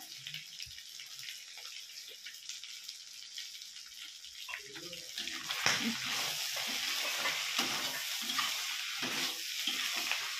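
Chicken pieces with ginger and garlic frying dry in oil in a home kitchen pan, a steady close sizzle that grows louder and busier midway, with stirring scrapes and no talk.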